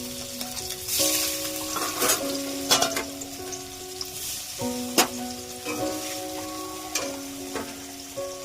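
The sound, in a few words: boal fish frying in hot oil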